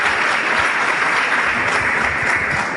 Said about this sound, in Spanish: un aplauso tremendo a estas personas